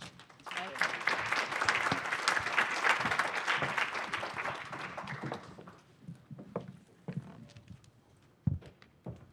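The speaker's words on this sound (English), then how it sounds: "please give a round of applause" Audience applause fills a conference session on administrative data for official statistics, dense and steady for about five seconds, then thinning into scattered claps before fading.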